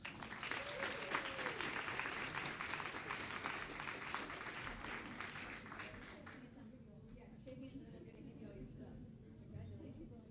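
Audience applause at a school board meeting honoring student artists, dense steady clapping from a full room for about seven seconds, then thinning to lighter scattered claps.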